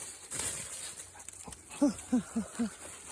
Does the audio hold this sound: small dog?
yes